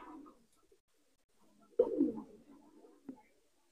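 A female Nildumma pigeon coos softly, a few low, throaty murmurs with short gaps and one fuller burst, close and quiet.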